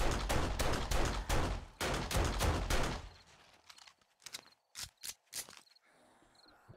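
Gunfire in the 7 Days to Die video game during a horde night, rapid bursts of loud automatic shots for three seconds, then scattered single shots amid quieter ambience and insect-like chirps.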